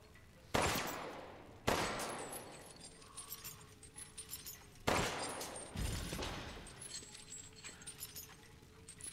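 Gunfire in Resident Evil Village: several loud, sharp shots spaced a second or more apart, each with a ringing, clattering tail, over a low game ambience.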